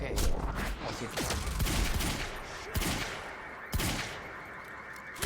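Gunfire in the video game Quantum Break rattles on almost continuously in dense, rapid bursts, with a few louder shots standing out over the steady barrage.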